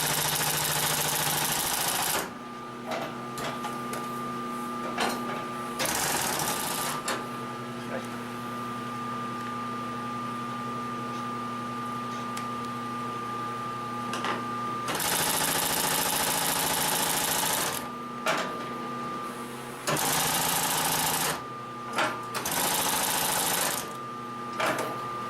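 A Consew 744R-30 industrial sewing machine stitching through webbing, running in loud bursts of rapid mechanical whirring separated by quieter pauses, close up.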